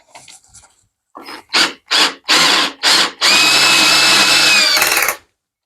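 Power screwdriver driving a screw while fitting a manual door lock, several short bursts of whirring followed by one longer sustained run, loud and close.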